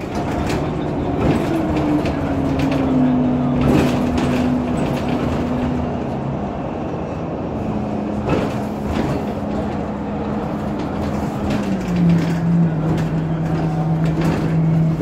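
Steady rumbling bus interior noise with a droning engine tone that shifts pitch, plus occasional rattles and clunks, continuous throughout.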